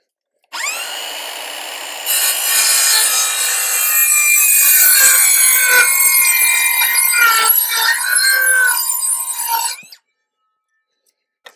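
Hand saw cutting wood freehand at an off-grid build site in Africa, a steady run of rasping back-and-forth strokes, loud and close, continuing for several seconds before stopping abruptly.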